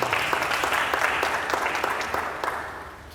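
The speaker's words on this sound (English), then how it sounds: "We should give our governor a clap now" An audience applauds a governor at a Rivers State political gathering, a steady, fairly loud wash of many hands clapping for about three seconds that slowly thins toward the end, with no voices over it.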